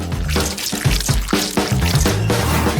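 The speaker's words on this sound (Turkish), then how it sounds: "silikon tam gereken silikon kalıbının içine jöleyi döküyoruz" Jelly is poured into a silicone mold in a kitchen, making a close, continuous run of wet glugging and dripping that lasts the whole short stretch.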